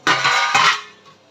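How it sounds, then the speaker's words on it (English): A metal baking tray clatters as it is handled and lined with butter paper for cookies, a brief close metallic rattle and scrape that fades away within a second. "Now you line the baking tray"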